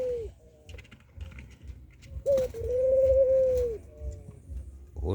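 Capuchine pigeons cooing in a breeding loft in Jamaica, giving soft, low, drawn-out coos in a few separate phrases, fairly close, with faint background rustling.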